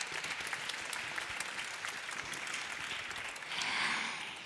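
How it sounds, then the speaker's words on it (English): Steady applause from a crowd, many hands clapping continuously, swelling slightly louder toward the end. "Big applaud for them"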